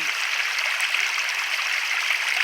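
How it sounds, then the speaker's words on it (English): Steady splashing of water tumbling over rocks in a natural pond, a continuous bright rushing and trickling close by, with no voices. "That one up there still seems to have a bit of good splash coming off of it."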